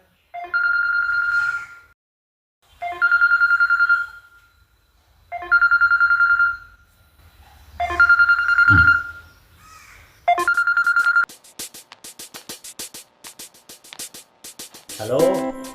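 A telephone rings in five evenly spaced bursts with short silences between them, loud and close, followed by a jumble of clicks and handling noises.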